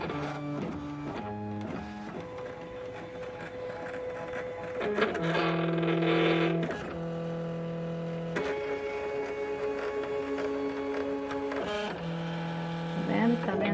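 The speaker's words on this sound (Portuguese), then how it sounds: "Então agora vamos ver se a máquina vai ler mesmo essas marcas de registro que foram imprimidas pelo Corel." Cutting machine scanning printed registration marks for a print-and-cut job, a steady whirring motor with stepped tonal shifts as the carriage moves, loud and continuous with brief pauses between movements.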